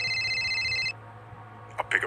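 A phone rings once as a sound effect in an animated horror story, a bright electronic tone lasting about a second before cutting off, followed by quiet and a brief noise.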